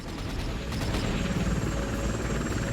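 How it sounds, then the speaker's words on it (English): A helicopter flying in the VR video game Worlds at War, its dense, steady rotor and engine roar filling the whole clip without a break, loud and close, with no talk over it. "We're bad at helicopter piloting"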